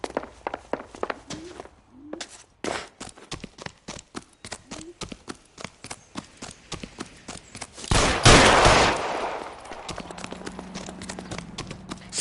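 Sharp, evenly spaced gunshots in the L.A. Noire video game, a long string of single cracks with a louder burst and rumble near the end, with little talk around them.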